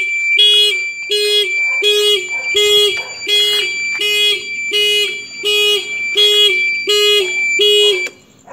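An alarm on a Yamaha Mio Soul i 125 scooter, set off by a modified GPS tracker, gives about ten loud, even electronic beeps that repeat for roughly eight seconds before cutting off near the end.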